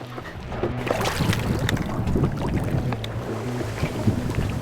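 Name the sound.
strong wind outdoors at duck hunting marsh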